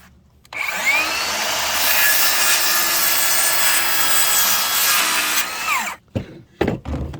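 Hand saw cutting through a piece of wood in a steady, continuous stroke for about five seconds, fairly loud and close, followed by a few knocks and handling sounds.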